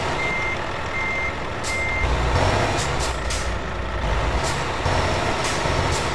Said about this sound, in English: You have to go in reverse, Ed.